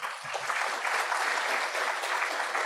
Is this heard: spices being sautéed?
no